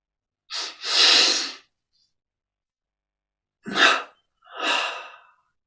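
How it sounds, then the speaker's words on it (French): Breathing meditation with a double inhale and a slow exhale: a quick two-part breath in through the nose, a long pause, then two loud close breaths out, with no speech. "on prend une double inspire. On contracte tous les muscles. Expire et on détend tout."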